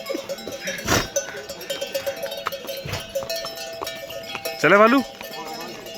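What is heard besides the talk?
pack horse with bells moving off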